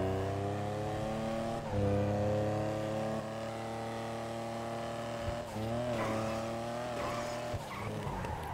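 Car engine from GTA V Online, from the Ill-Gotten Gains update, revving loudly and steadily with tires squealing and skidding through several turns.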